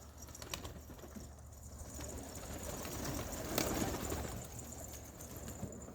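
Homing pigeons coo softly inside a pigeon coop, faint and low against a steady background hiss, with scattered light rustling and no talking.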